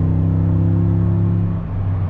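A 2019 Toyota Tundra TRD Pro engine accelerating, a steady loud low rumble with strong engine harmonics heard close, holding level for about two seconds before a slight dip, with no talking.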